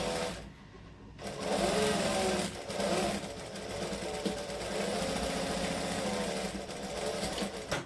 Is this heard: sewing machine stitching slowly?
yes